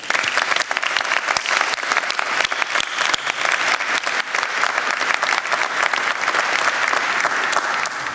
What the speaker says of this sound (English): So let's have a big round of applause for family and friends.